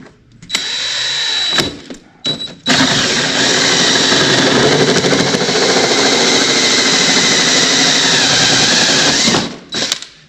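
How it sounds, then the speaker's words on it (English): A power drill bores through the frame of a 2005 American Eagle toad car to fit RoadMaster tow bar mounts, giving a loud, steady whining grind for about seven seconds after a couple of short starts. "So let me get drilling on this."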